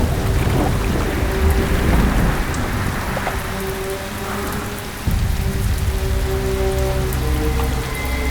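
Heavy rain pours steadily on surfaces during a storm in a Tamil film scene, a dense constant hiss with low thunder rumbling underneath, loud and close throughout with no speech.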